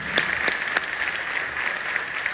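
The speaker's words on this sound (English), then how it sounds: "give everyone on this stage another round of applause" Audience applause for people on a stage, a steady, dense patter of many hands with a few sharper claps close by, continuing evenly throughout with no talk.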